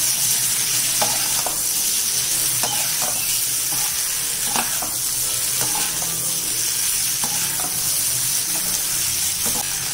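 Prawns pepper fry sizzles steadily in a pan on low flame while being stirred, the constant hiss broken by the repeated light scrapes and clicks of a spoon mixing, close and fairly loud.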